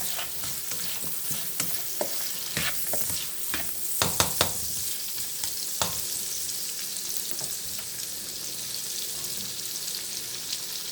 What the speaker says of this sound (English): we're gonna saute this for a minute and a half